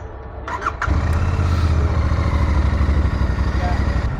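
A Royal Enfield-style 411 motorcycle turns over and fires up, brief starter whine followed by a loud, steady, thumping idle that continues close by.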